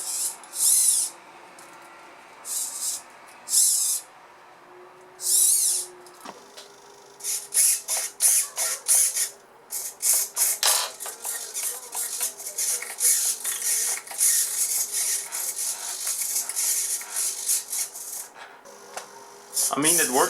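A small servo motor pulls fishing line to move a robot ant's leg, making short, buzzing whirs in bursts: a few spaced pulses first, then a rapid run of quick stop-start movements, fairly close and moderately loud.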